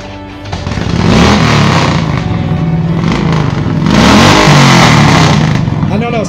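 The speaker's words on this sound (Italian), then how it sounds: "Mi accendete una moto per favore?" A heavy four-stroke motorcycle at a bikers' blessing gathering starts up and revs loudly nearby, its engine swelling in two strong surges, with crowd voices mixed in.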